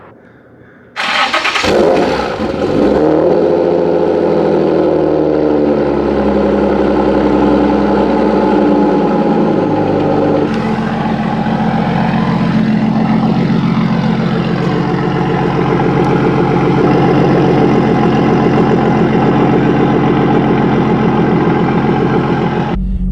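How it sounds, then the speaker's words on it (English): A turbocharged 600+ horsepower Nissan 350Z engine cranks and fires up, then settles into a loud, steady, rumbling idle with a deep exhaust note that holds throughout. "get some exhaust sounds"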